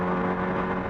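A motorcycle with loud aftermarket exhaust pipes drones steadily and close by during a commute, a continuous rumbling engine note with no talk over it.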